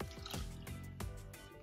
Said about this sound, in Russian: от общего количества молока, у нас здесь 1 литр, наливаю примерно 1 половник